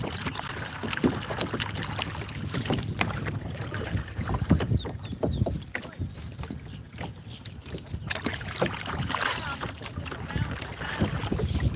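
Kayak fitted with a paddle drive moving through shallow water, with steady churning and splashing close by, wind buffeting the microphone, and occasional voices in the background.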